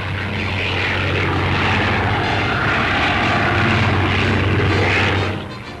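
Propeller aircraft engines drone steadily and loudly, a deep constant hum with a throbbing rhythm as the plane flies past, fading briefly at the end.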